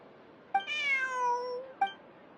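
Cat meowing in the video game Genshin Impact, a single clear drawn-out meow bracketed by short clicks, close and distinct over a quiet background.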